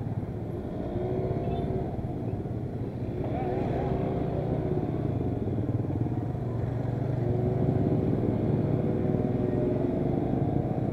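Two-stroke Asiastar automatic scooter engine droning steadily while riding, a continuous buzzing hum with rising and falling pitch and constant road and wind noise.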